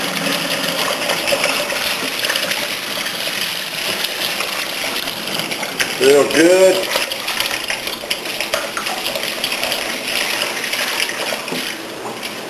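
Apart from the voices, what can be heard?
water rinsing while cleaning a beer brewing manifold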